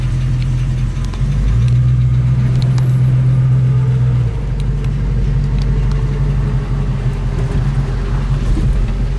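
A 1966 Ford Mustang Fastback engine idles loudly nearby with a steady low rumble and a slight ticking puff in the exhaust note from a small exhaust leak.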